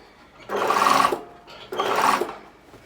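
A sewing machine runs two steady stitching bursts of about half a second each while a sleeve is sewn in, close and loud, separated by a brief pause with no voices.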